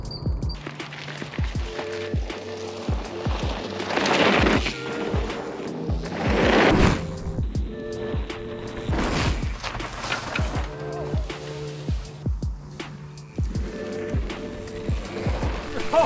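A mountain bike rolls along a newly built dirt trail in Australia, with a continuous rumble and rattle of tyres and frame plus repeated sharp clacks and thumps over bumps, loud and close, while a voice speaks briefly over it.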